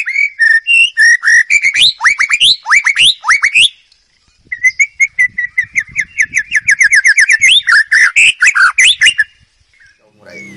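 A magpie-robin singing close by, a bright run of varied whistles and chirps in rapid phrases, pausing briefly before a second burst of song.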